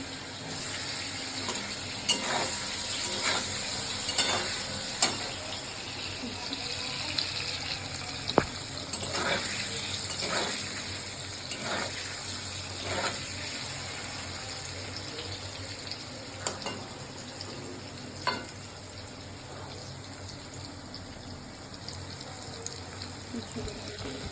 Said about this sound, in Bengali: তেল গরম হয়ে গেছে অল্প অল্প করে একটু পরে ভেজে নেবো